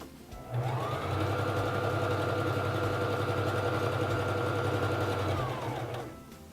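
A Singer 3333 sewing machine stitches a narrow zigzag at a longer stitch length, running steadily with a close, even motor whir and rapid needle rhythm for about five seconds, starting and stopping cleanly, alone.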